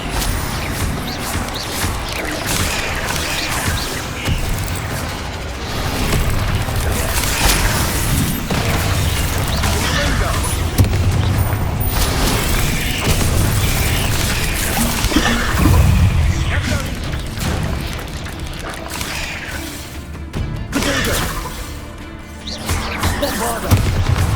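Explosive Bombarda spell blasts boom through a dense, busy Hogwarts Legacy fight, with heavy rumbling impacts and crashing debris piling up almost continuously at close range.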